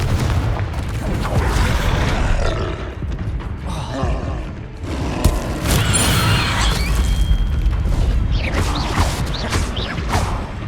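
Repeated spell blasts in the video game Hogwarts Legacy, heavy booming bursts and crackling impacts following one another over a dense, continuous layer of combat noise and rumble, loud throughout.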